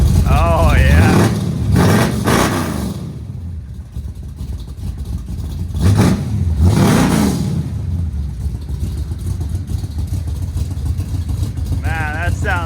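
A Chevy C10 pickup's 400 small-block V8 fires up through dual 3-inch mandrel-bent exhausts with mufflers, giving loud, deep rumbling revs in bursts, with voices talking over it.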